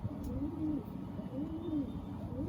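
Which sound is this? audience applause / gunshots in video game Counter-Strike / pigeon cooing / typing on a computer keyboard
pigeon cooing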